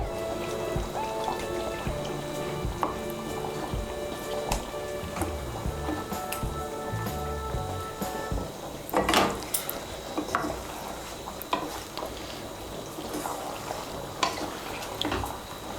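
Pieces of katla fish stirred into curry gravy for shahi katla kalia, producing soft wet squishes and the scrape and clink of a spatula against a pot, close and fairly quiet, with a few sharper knocks.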